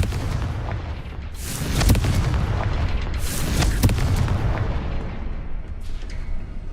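Confringo explosive fire spell blasts in Hogwarts Legacy, with two sharp booming bursts about a second apart and a fainter crack near the end, all over a steady low rumble of ambience.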